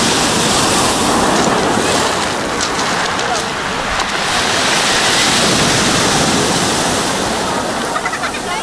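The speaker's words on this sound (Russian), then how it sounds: "Волны хорошие сейчас." Sea waves crash and wash steadily onto a beach at Adler resort, loud and continuous, with a roar of surf and wind buffeting the microphone.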